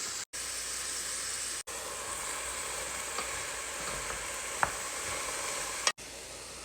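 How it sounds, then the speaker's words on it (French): Vegetables sizzle in oil with salted herbs at the start of a lentil soup, a steady, dense hiss that runs unbroken apart from a few abrupt cuts, with no voices. "j'ai mis tous mes légumes dans une quantité d'huile, herbes salées"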